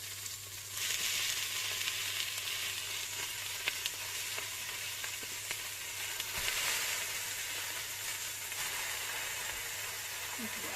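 Meat sizzles in a hot pan for couscous, a steady, dense hiss of frying that holds loud and even throughout, with a few faint stirring knocks underneath.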